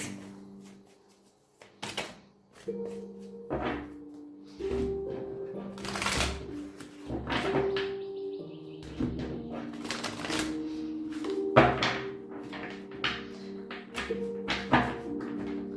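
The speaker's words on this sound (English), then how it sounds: "the cards are a little bit too big to shuffle, so this is much easier" Tarot cards are shuffled repeatedly in quick riffling bursts, close up, with a voice talking over much of it.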